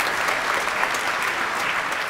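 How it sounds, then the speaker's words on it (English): Dense, loud applause from a crowd at a school assembly, continuous and even throughout the short stretch. "But can we give everybody here a round of applause?"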